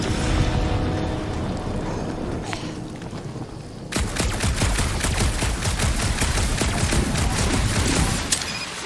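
Sustained gunfire in the Guardians of the Galaxy video game: after a rumbling lead-in, rapid, loud automatic shots crackle in a steady burst for several seconds over dense background noise of battle effects.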